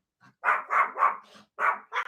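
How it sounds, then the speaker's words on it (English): A dog barks in a quick burst of five or six sharp, close barks with short gaps between them, loud and alone, with no voices over them. "My dogs are barking."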